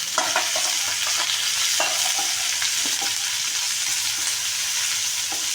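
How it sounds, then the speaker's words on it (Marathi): Chopped onion fries in hot oil in a pan, a continuous close sizzle with scraping stirring strokes over it, no voices. "कांदा छान असा तेलामध्ये तळून घ्यायचा ब्राऊन कलर येईपर्यंत आपण हा तळणार आहोत"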